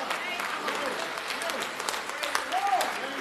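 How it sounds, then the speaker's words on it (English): A church congregation at a Sunday service breaks into a round of applause, a fairly soft, sustained patter of clapping with scattered voices and murmurs mixed in. "I think that deserves a reveling round of applause."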